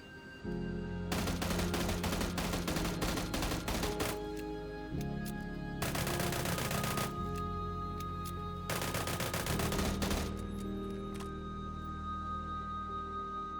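An M16A4 rifle in PUBG fires in burst mode, with three separate volleys of rapid, sharp gunshots, the first two lasting about three seconds each and the last about two, each followed by quieter ringing gaps.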